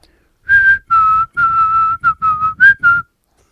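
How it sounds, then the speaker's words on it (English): Whistled melody by a character in the video game Road 96, a series of seven or eight clear, sustained tonal phrases with brief gaps, loud and close, with no talking over it. "Good old Whistling Joe"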